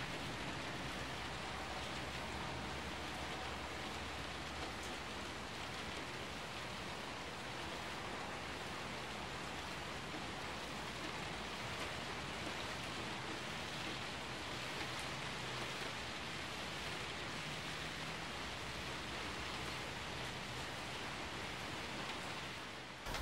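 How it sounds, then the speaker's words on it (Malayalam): Rain falls on a cardamom farm, a steady, even hiss of dense drops that stays unchanged throughout, with no voices. "ഇപ്പൊ മഴ വീണ്ടും നമുക്ക് വന്നിട്ട്"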